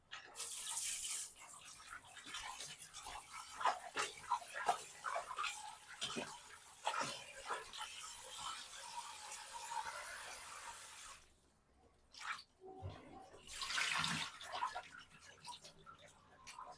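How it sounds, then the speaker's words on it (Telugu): Tap water runs steadily while market-bought fish is washed for a home-cooked fish curry, a continuous splashing hiss with uneven surges and a brief lull near the end. "ఇదిగోండి ఫిష్ తీసుకొచ్చి ఫిష్ని వాష్ చేస్తున్నారు."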